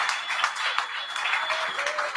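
Church congregation applauding during a worship service, a steady wash of many hands clapping at moderate loudness with no break, heard alone.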